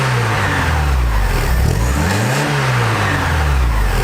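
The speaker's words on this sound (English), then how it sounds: "I can hear the engine whine from the balance shafts more than I hear the exhaust out of the back of the car." Porsche 944 four-cylinder engine, 143 horsepower, loud and close, with a rising and falling rev sweep, engine whine and exhaust drone, no voices.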